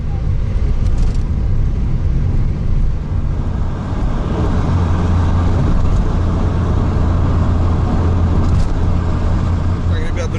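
A car cruises along a highway in the Russian countryside, a constant loud road and engine roar with tyre hiss filling the cabin, steady from start to finish with no speech.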